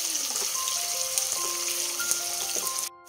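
Onions and green chillies frying in oil over a medium gas flame, a steady bright crackling sizzle with a few faint tonal beeps on top, continuous before stopping abruptly at the end.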